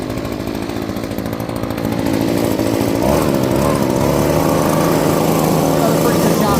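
A gas-powered Echo yard tool runs loud and steady close by, a constant buzzing engine drone that grows a little fuller after the first couple of seconds.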